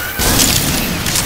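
A grenade explodes in the zombie shooter Left 4 Dead 2, a loud, broad boom that rolls on for about a second amid game noise.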